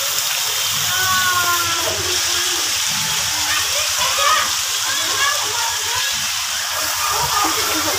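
People splash and play in water at an amusement park: continuous rushing, splattering water noise fills the scene, with voices talking and calling over it throughout.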